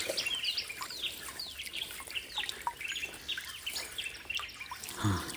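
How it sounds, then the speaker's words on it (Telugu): A small bird calls near a cool hill stream, repeated quick chirps scattered throughout over a soft trickle of water, fairly faint and close. "ఏదో పిట్ట"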